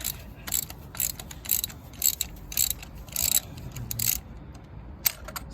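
Ratchet wrench clicking in quick uneven bursts while loosening spark plugs on a Hyundai i, close and crisp with short pauses between strokes, no talk.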